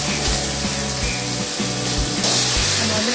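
Chicken tipped into hot masala for a 2 kg chicken biryani, loud steady sizzling and frying hiss with a cooking hum underneath, close and continuous.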